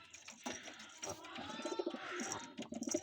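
Destekuyruk pigeons cooing in a loft, soft repeated low coos and rustling that build toward the end, with faint chirps above, fairly close and without talk.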